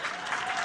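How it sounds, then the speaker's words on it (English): Guests at a celebration dinner clap together, giving a short, steady burst of moderately faint applause from the room. "if they're at your table, you have to clap"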